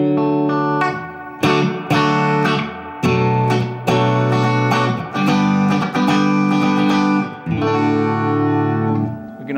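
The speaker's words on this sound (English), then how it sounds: "There's your nice reverb." Electric guitar played through a Fender tube club amp with reverb on and vibrato off, ringing chords struck in a steady series, each sustaining with a lush reverb tail, loud and close with no talking.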